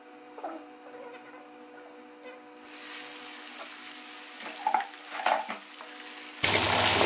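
Chargha chicken frying in hot ghee in a wok, starting quiet with faint clinks before a steady sizzle swells in, scattered pops and knocks, then a sudden louder hiss at the end; no talking.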